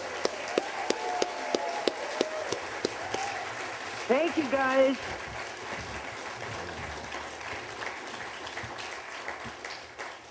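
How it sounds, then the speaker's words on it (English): An audience applauds a guest, a steady wash of clapping running throughout beneath a voice and a sharp knocking pulse in the first half. "let's give Grace a huge round of applause"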